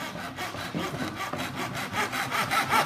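A hand saw cuts through PVC pipe held in a plastic miter box, with quick, even back-and-forth strokes rasping close and alone for about three seconds.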